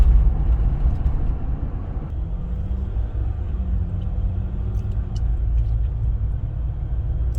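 A 2021 Jeep Wrangler diesel driving on the road, heard from inside as a steady low engine drone and road rumble, loud and continuous with no talk.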